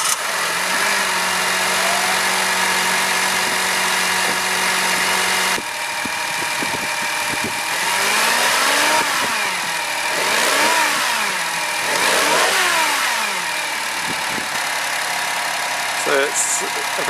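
Small Honda N-One kei car with a 660cc three-cylinder engine, freshly serviced, starts up and settles into a steady idle, with a few light revs that rise and fall; the engine runs close and fairly loud for the whole stretch.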